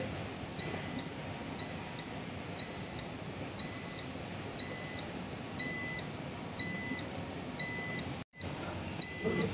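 An Emerson 6 kVA online UPS with a fault sounds its alarm: nine evenly spaced short electronic beeps, about one per second, over a low background hum, followed by a brief dropout.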